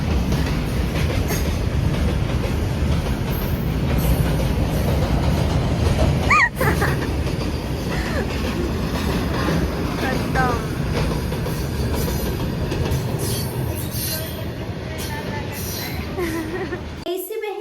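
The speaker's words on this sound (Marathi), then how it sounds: "कशी ट्रेन आहे." A train rolls by continuously with a loud, close rumble and clickety-clack of wheels, a brief squeal partway through and a thud near the end, while people talk faintly under the noise.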